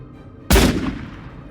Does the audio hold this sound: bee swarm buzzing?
no